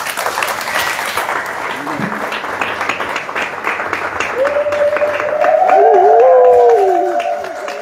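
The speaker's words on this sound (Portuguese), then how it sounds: "gostaria de prestar uma salva de palmas para Srila Gurudeva." Applause from an audience at a Hare Krishna evening Hari-katha gathering in Brazil, a steady dense clapping that swells louder near the end while a voice holds a sung or spoken tone over it.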